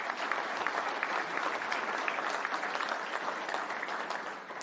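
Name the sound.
audience applause at awards evening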